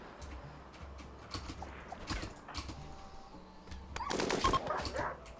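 Video game gunfire crackles in bursts of rapid shots, some near and some distant, building to a dense volley toward the end.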